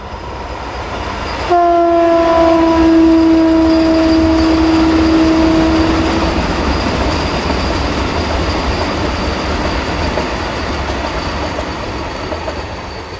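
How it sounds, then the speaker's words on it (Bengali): A Howrah–Ranchi Vande Bharat Express train rushes past close by, its loud horn sounding with a sustained multi-tone blast for several seconds, followed by the steady roar and rumble of the passing carriages. "হাওড়া রাঁচি বন্দে ভারত এক্সপ্রেস।"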